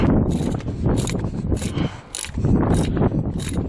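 The oil filter cover is tightened by hand on a 1999–2005-style Mercedes-Benz ML320 W163 with the M112 engine, giving loud, close ratcheting clicks in regular bursts with short pauses between.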